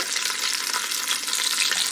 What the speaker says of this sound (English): So now we've got our lamb browning.